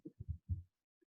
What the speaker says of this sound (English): His heartbeat.